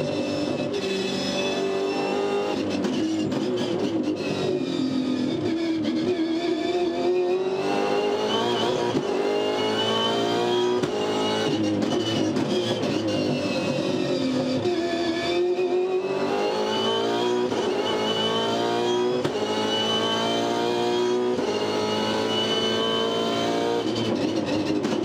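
A V8 Supercar engine heard onboard through a full lap of the Sydney 500 race, loud and continuous, with high revs rising and falling through gear changes and corners, no talk over it.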